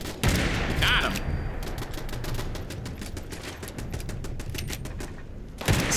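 Automated base turrets in Fallout 76 fire rapid bursts of gunfire, with loud sharp shots at the start and end and a steady stream of quicker, quieter cracks in between.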